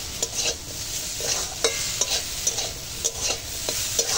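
Bay leaf and dried red chilli frying in hot oil, a soft sizzle under regular scraping strokes of a spoon stirring in the pan, close and rhythmic.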